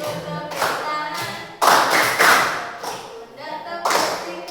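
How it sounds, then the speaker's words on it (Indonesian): A primary school class claps hands and pats shoulders and elbows in a chant routine, with bursts of loud clapping and thumping mixed with voices chanting along. "Tepuk pundak, tepuk siku, tepuk tangan."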